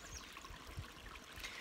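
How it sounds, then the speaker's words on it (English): A small creek flows with a soft, steady trickle and wash of water, faint and continuous with no voices. "what does this little creek have to say to you today?"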